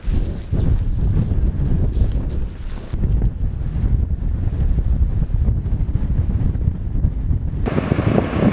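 Strong storm wind roars in a snowstorm on the Fichtelberg mountain, a loud, continuous buffeting rush that batters the microphone throughout with no talk.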